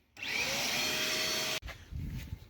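A vacuum cleaner whines loudly and steadily, then cuts off abruptly, leaving rustling and low handling noises.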